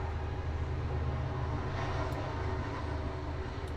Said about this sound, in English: there's a train going by outside, and I have my window open